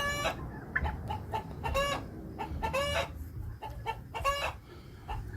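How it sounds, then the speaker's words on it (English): Backyard urban chickens cluck loudly and repeatedly after laying eggs, their squawking cackles close and insistent in bursts over about five seconds. "complete with sound effects today from the chicken laying those eggs"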